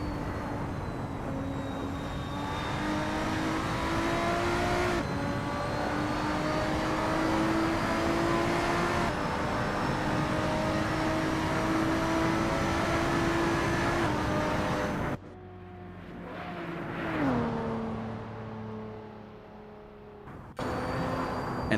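Lotus 3 Eleven race car in Assetto Corsa at Road One International, its engine droning steadily through gear changes, then easing off and revving back up near the end, loud and continuous with no talk.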